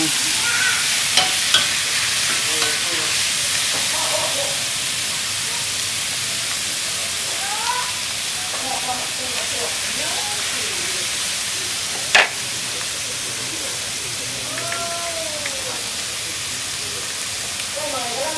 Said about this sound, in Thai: เรามาคั่วเอารสชาติหอม